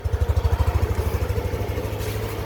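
A motorcycle engine, with an aftermarket slide piece fitted, idles steadily with a low, even putter, pulsing clearly at first and then settling into a softer, continuous rumble.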